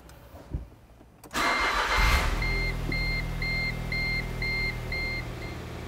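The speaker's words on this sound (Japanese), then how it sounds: "エンジンの方を始動していきます。" A 2011 Smart Fortwo Cabrio Brabus engine cranks and catches after a quiet moment, then settles into a steady idle while a chime beeps repeatedly in the background.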